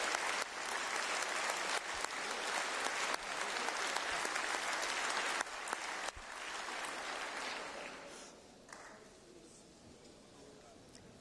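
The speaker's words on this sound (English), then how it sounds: "Hopefully clapping for him will help a lot of these people to wake up" Sustained applause fills the European Parliament chamber during the State of the European Union address, a dense crowd of clapping that carries for several seconds and then thins out and fades toward the end.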